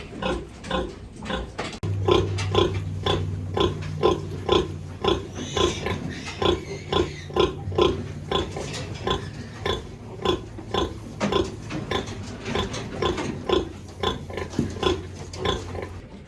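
A sow grunts at feeding time after giving birth, in a steady rhythmic series of short, repeated calls, close and loud, with a low steady hum underneath.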